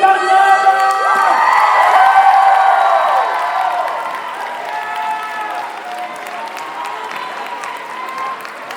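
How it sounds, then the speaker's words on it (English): An audience gives the full cast of a theatre production loud, sustained applause with cheering and whoops, easing slightly toward the end. "one more round of applause for the full cast of IPAGLABAN!"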